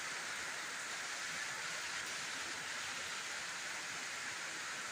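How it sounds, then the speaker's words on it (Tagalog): Heavy rain pours down in a dense, steady hiss that stays constant throughout, with no voices heard. "Kusog-kusog din siya nga ulan."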